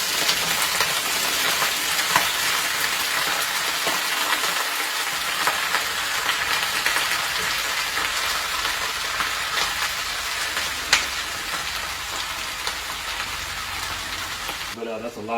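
Sweet potatoes and onions fry in olive oil in a crowded pan, giving a steady, dense sizzle with fine crackling that continues evenly throughout.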